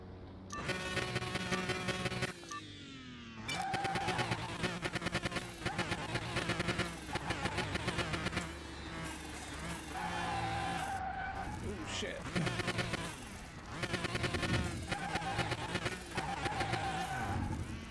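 Engine revs climb and tires skid in the Car Mechanic Simulator video game, loud and close, with repeated surges of acceleration broken by brief gaps and shifting whines over about eighteen seconds.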